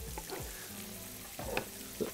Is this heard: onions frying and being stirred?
yes